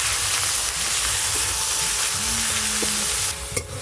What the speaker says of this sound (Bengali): এবার আদা রসুন বাটা দিয়ে ভালো করে কষে নেব